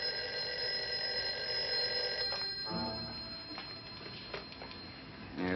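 An old telephone bell rings continuously in a dim interior scene, then cuts off partway through, leaving quieter room sounds and faint movement.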